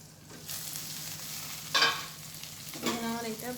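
Ivy gourd and coconut frying in a pan, a soft steady sizzle with a few louder stirring scrapes and clatters, fairly quiet and close.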